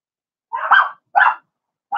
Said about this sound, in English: I got a cat and dog fight going on